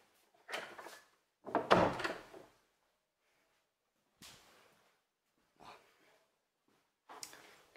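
A door is handled and shut indoors, giving several separate soft knocks and bumps spread over a few seconds with quiet gaps between, nearby and fairly faint.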